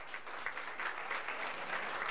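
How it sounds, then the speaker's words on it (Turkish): Applause from an audience at a traditional December village association evening, a steady patter of many hands kept fairly faint and distant, with no voices over it. "Hep alkışlayalım. Alkış."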